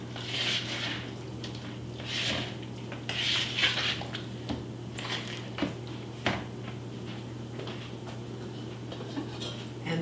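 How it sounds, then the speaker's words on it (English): Spoon or utensil scraping and clinking against a bowl while soup is stirred into vegetables for cornbread dressing, in irregular soft taps over a steady kitchen hum. "I will mix the soup in with the veggies."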